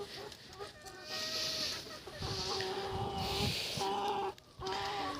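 A bantam rooster basking in the sun gives soft, repeated clucks and short calls at close range outdoors, with other farm birds faintly around.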